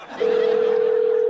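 Steady telephone ringback tone heard while dialing an unknown number, a single continuous pitch starting after a brief pause and holding loud and unbroken to the end.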